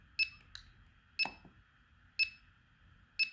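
A Geiger counter alarm: sharp electronic beeps repeat at a steady one-per-second rhythm, each a brief high chirp over a faint low background hum.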